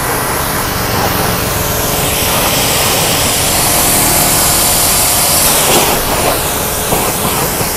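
AMAXGOOLD home car pressure washer running steadily, a loud continuous broadband rush of motor and water spray with little change throughout.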